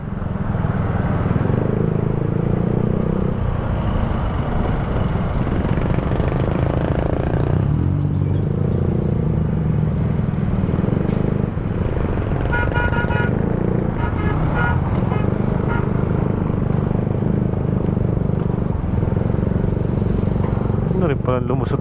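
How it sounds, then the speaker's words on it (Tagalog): Midday road traffic circulates around the Balagtas Rotonda roundabout, cars and motorcycles droning steadily with occasional horn toots, a dense continuous rumble with voices talking over it. "daloy ng trapiko dito sa may Balagtas Rotonda"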